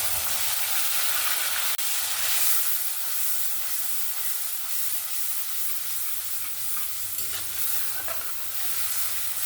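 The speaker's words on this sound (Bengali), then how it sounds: "এবার বেটে রাখা মশলাটা দিয়ে দেবো।" Ground spice paste dropped into hot oil over a low gas flame for a vegetarian doi potol curry, a steady loud sizzle and hiss with faint stirring scrapes, close and continuous without speech.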